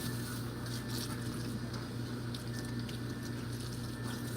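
A green pepper rinsed under a running tap, a steady close wash of water splashing without a break, with no one speaking.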